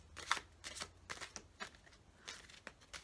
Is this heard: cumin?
no